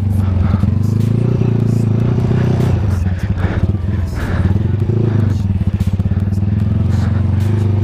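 A Tiger CJDW motorcycle rides a dirt track, its engine droning loud and steady with rumbling, clattering surges as it labours over rough ground.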